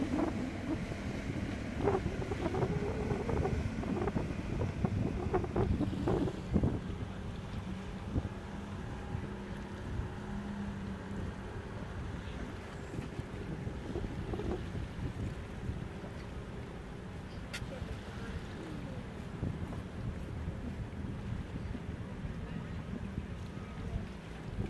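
A large cruise ship passing a campground by the water, heard as a low, steady rumble under heavy wind buffeting, with a few knocks and faint voices in the background.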